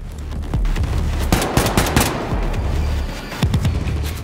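Rapid bursts of gunfire in Wolfenstein II: The New Colossus, sharp repeated shots in quick clusters with a few louder booms, close and loud, no talking.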